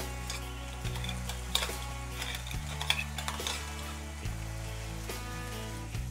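Green chillies and diced potatoes sauté over low heat in a pan for sabudana khichdi, giving a steady soft sizzle with occasional stirring scrapes and light utensil clicks throughout.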